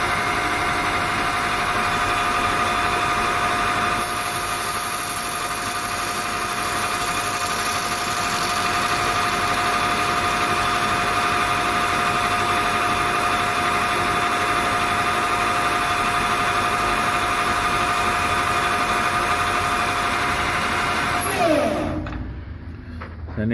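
Lathe turning a 14mm diameter step for a tuba project, a steady humming motor drone with a high whine, running continuously for about twenty seconds before winding down at the end.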